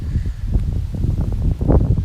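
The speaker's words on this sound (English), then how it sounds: "Oh, wind is blowing. Sorry about the sound." Wind gusting across a microphone outdoors in Japan on an early winter day, a steady low rumbling buffet with uneven surges that runs for about two seconds, close and fairly loud, with no talking.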